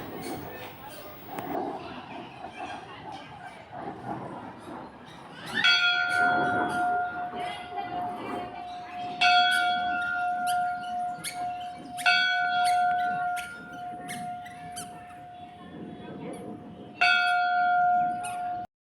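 A large temple bell at Shri Sangameshwar temple rings out loud and resonant several times, each strike sustaining a long humming tone, with people talking and moving around it.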